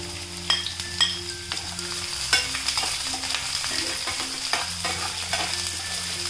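Sliced onions and garlic sauté in a hot pan, giving a continuous close sizzle with repeated sharp clinks and scrapes of a spatula stirring against the metal, and a low steady hum running underneath.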